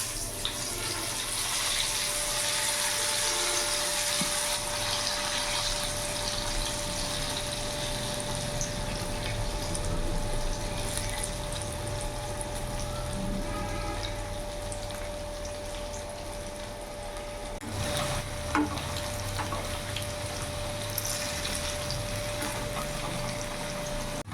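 Okra pieces frying in hot oil for a crisp fry, giving a steady, loud, dense sizzle that carries on unbroken with no speech.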